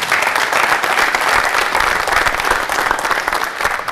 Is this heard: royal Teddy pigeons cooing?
no